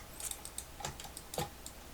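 A computer keyboard is tapped in a few separate clicks as shortcut keys are pressed while copying in an illustration program, sharp and close with short gaps between presses and no talking.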